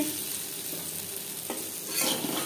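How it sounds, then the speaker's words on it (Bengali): Potatoes fry with salt and turmeric in a pan, making a steady, close sizzling hiss. A couple of soft stirring scrapes break through near the end, and no one talks. "আলু 5-6 মিনিট ভেজে নেওয়ার পর একটা পাত্রে উঠিয়ে নেব"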